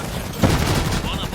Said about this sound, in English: they're firing some great mortars at them